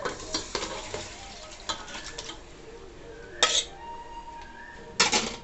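Washed chicken added to a pan with salt and turmeric, a soft sizzle under several sharp clanks and scrapes of a spoon against the pan.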